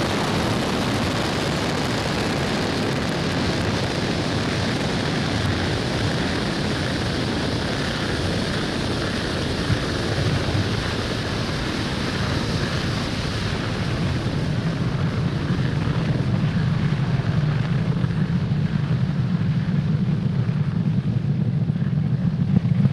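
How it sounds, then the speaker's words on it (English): A SpaceX Falcon 9 rocket lifts off from Pad 40 at Cape Canaveral Space Force Station on the SES O3b mPOWER mission. A steady, dense roar rumbles on throughout, with deep low-end power swelling toward the end. "Falcon 9 has successfully lifted off from Pad 40 at Cape Canaveral Space Force Station"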